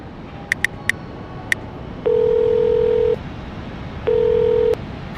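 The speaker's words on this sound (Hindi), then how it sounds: "उसने स्निग्धा को कॉल किया" Phone dialing: a quick series of four short keypad tones, then two long, loud ringback tones separated by a pause, over a faint hiss.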